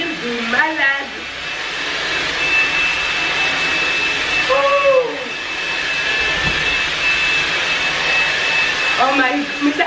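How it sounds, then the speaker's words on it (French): A vacuum cleaner runs at maximum power indoors, giving off a loud, steady roaring whine throughout, while a voice talks over it in short bursts near the start, middle and end. "Pendant que moi je passe l'aspirateur."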